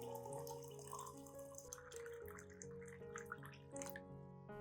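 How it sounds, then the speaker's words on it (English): Boiled water is poured into coffee powder, a light trickling, splashing stream running steadily throughout, with faint tonal ringing in the background. "Mix it with 500 milliliters of boiled water."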